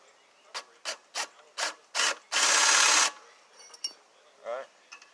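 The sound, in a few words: ratchet tightening bolts on a pressure washer pump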